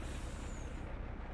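A steady hiss of truck air brakes in Farming Simulator 19, a continuous broadband rush of released air held for about a second and a half at moderate loudness.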